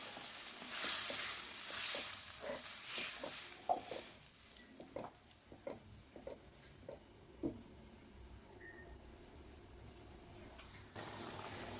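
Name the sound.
egg roast gravy boiling and simmering in pan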